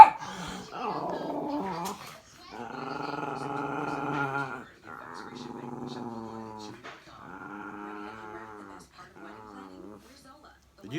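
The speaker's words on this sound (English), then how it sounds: "Did that dog get in your house?" A dog growls and whimpers indoors in a small engine shop, with drawn-out moaning vocal tones rising and falling over about eleven seconds, close and moderately loud, broken by short pauses.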